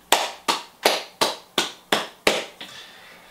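Seven sharp, evenly spaced claps ring out close and crisp, each with a short decay, ending in a softer final tap, more like one person clapping slowly than a crowd's applause.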